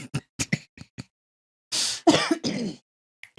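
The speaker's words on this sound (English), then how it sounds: "Did you cough? Yes." Several short throat-clearing coughs from a person nearby, a quick cluster of sharp bursts followed by a few longer, rougher hacks, with quiet gaps between.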